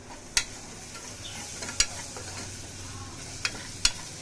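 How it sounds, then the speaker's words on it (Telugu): Carrots, onions and beans frying in a pan, a soft steady sizzle with a few sharp clicks of a spoon or utensil against the pan, close and alone with no talk. "carrot and onions and beans ఇవన్నీ వేసి బాగా వేయించుకోవాలండి"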